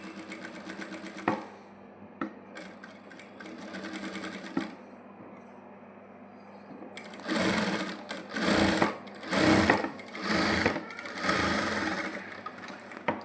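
A sewing machine runs long basting stitches while a sleeve is attached to a maxi dress, in short whirring bursts with pauses, then a quicker string of loud, rhythmic runs.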